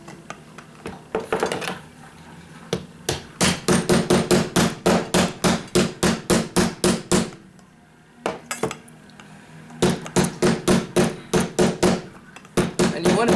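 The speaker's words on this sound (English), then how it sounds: "And you hammer it down." A hammer drives a coin down onto a 3/4 inch PVC pipe while shaping a coin ring: a long run of rapid, evenly spaced metallic strikes, a short pause, then another fast burst of blows, close and loud.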